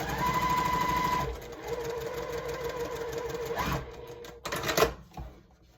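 A sewing machine stitches quilt block pieces for a pressed-flowers quilt block in a steady, fast mechanical whir, then pauses briefly and resumes in shorter runs near the end.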